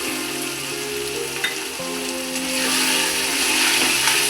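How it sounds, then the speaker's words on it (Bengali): Chicken pieces sizzle steadily in hot oil for an egg chicken tadka, a loud continuous frying hiss with a brief clink midway, no voices. "চিকেনটা দেখুন ভাজা ভাজা হয়ে গেছে, তেলও বেরিয়ে গেছে। এবার আমি 2টো ডিম দিয়ে দেবো।"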